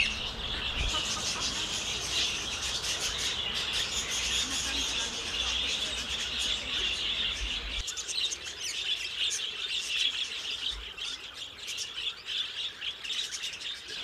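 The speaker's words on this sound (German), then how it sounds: "Aus der Vogelfoliere hören wir das Konzert von Wellensittich, Nymphensittich, Alexandersittich und Gelbscheitel-Amazone." Budgerigars, cockatiels, Alexandrine parakeets and yellow-crowned amazons call together in a zoo aviary, a dense, continuous chorus of chirps and chatter, busier in the first half and thinning slightly later.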